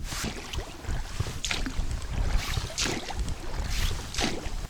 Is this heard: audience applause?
no